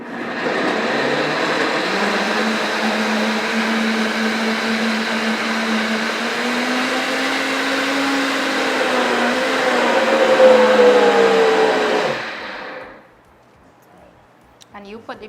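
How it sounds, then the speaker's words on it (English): A blender whirring at full speed through dasheen dip, a loud, steady motor whine that climbs slightly in pitch near the end before cutting off abruptly, leaving near silence. "you put the blender on full speed"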